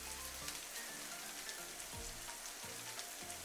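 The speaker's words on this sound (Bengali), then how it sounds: "কাঁচামরিচটা দেওয়ার পর খুব ভালোভাবে আমি কিছুক্ষণ এটাকে ভেজে নেব" Green chillies fry with ginger garlic paste in a pan for chicken biryani. A steady, soft sizzle with crackle runs throughout, fairly quiet, and no voices are heard.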